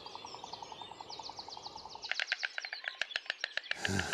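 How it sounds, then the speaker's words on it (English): Storks at a nest with three chicks at Knepp in the UK clack their bills in a rapid, dry wooden clatter that takes over midway from steady background birdsong and chirping, fairly close and loud. "that clacking sound is coming from a pair of birds with 3 chicks"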